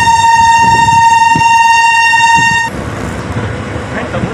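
The Varanasi–Bahraich Intercity Express departs Prayagpur at night with a loud, sustained horn blast lasting nearly three seconds. It then gives way to the rumble of the moving train.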